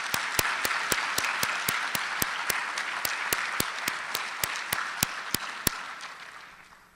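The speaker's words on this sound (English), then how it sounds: "I think we need to give them another big round of applause" Audience applause rings out at a hall of fame ceremony, a steady crowd clapping with sharp separate claps standing out, fading away toward the end.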